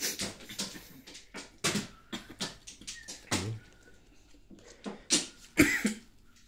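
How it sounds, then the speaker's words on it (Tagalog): Repeated coughing from several people, bursts scattered across the clip at varying loudness, some near and sharp, others softer in the background. "Inuubo na ang mga tao."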